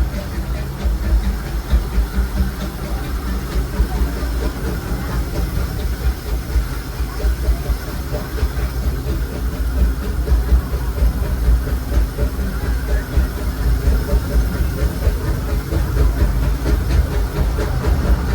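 A steam train on the Disneyland Railroad rumbles along steadily with a hissing, rattling undertone, continuous and moderately close, growing slightly louder toward the end.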